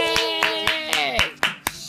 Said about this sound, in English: The loudest clap.